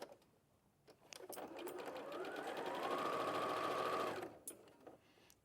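A sewing machine stitches quilt block pieces together, rising into one steady whirring run of about three seconds that fades out, with quiet handling noises before and after.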